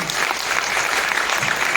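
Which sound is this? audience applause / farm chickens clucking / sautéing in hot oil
audience applause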